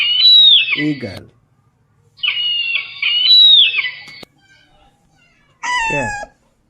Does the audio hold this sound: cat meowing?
yes